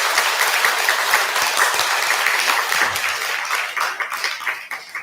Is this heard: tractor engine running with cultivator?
no